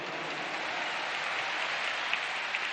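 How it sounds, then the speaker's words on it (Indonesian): Steady applause from a large rally crowd at the Jakarta International Stadium (JIS), a dense even wash of clapping heard from a distance, with nobody talking over it. "Tepuk tangan buat semua yang hadir di sini."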